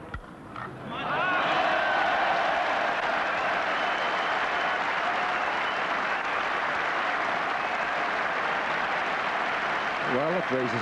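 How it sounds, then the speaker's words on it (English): A cricket crowd at Trent Bridge during a 1989 England v Australia Test match breaks into sustained cheering and applause after a quiet start, a broad steady roar that fades slightly before a commentator speaks. "Well, it raises a cheer."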